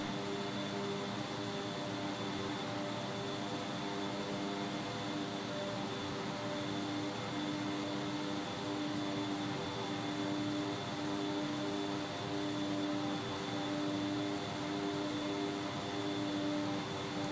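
Beechcraft 1900D turboprop in flight from Frederick, Maryland toward Washington, D.C., heard as a steady, continuous cabin drone with engine and propeller tones that holds unchanged throughout.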